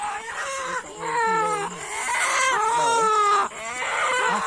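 A hen clucking nonstop as she is carried home, her busy, overlapping clucks loud and close throughout.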